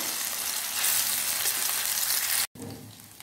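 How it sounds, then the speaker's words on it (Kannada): Chicken pieces fry in oil in a pan, a loud, steady close sizzle that cuts off abruptly near the end before resuming briefly, with no talking. "ಎಲ್ಲ ಪೀಸಸ್ ಹಾಕಿ ಒಳ್ಳೆ ಫ್ರೈ ಮಾಡ್ಕೊಳ್ಬೇಕು."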